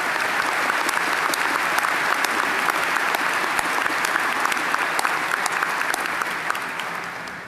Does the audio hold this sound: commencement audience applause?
yes